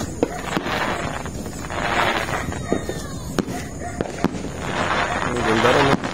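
New Year fireworks burst around a house in Hong Kong, with sharp pops and crackles repeating irregularly throughout and people talking over them.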